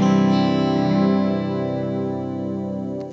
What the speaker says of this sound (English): the reverb and delay is kind of filling up the other frequencies